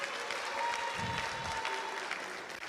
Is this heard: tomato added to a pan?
no